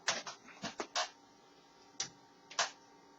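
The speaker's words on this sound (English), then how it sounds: "I'll move the printer around here a little bit to show you." A Printronix T5000 label printer being shifted and handled, giving a series of sharp plastic clicks and knocks, several in quick succession early on, then two more isolated taps after a pause, close and fairly quiet with no talking.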